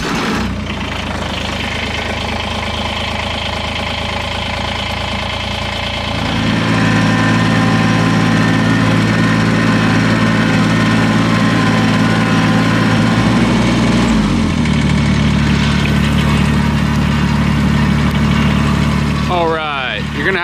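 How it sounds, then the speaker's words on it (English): Tractor engine idling outdoors at an off-grid cabin site, a steady loud low rumble that deepens and grows louder partway through, running continuously for the full stretch. "I'm just gonna get the tractor fired up"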